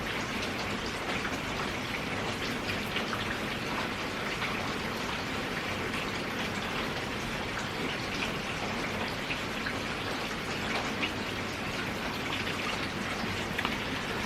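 Heavy rain pours down in a dense, unbroken hiss and patter on surfaces outdoors, loud and steady throughout, with no voices.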